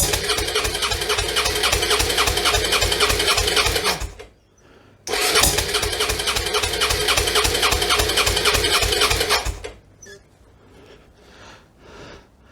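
A Suzuki V-Strom 650 engine cranks over with the throttle held wide open, giving a loud, steady rhythmic chugging for about four seconds. After a short pause it cranks again for about four more seconds, then quiet handling noises follow.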